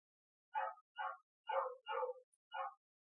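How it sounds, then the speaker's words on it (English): Five separate dog barks and yips ring out in a steady, evenly spaced series, moderately clear against silence, with no talking. "So you're going to hear some dogs in the background."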